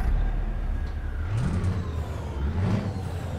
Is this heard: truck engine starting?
yes